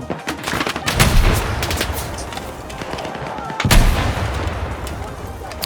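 In the Battlefield 6 open beta, an RPG launch and gunfire go off in two heavy, booming bursts, each followed by a long rumbling decay and scattered shots, loud and close.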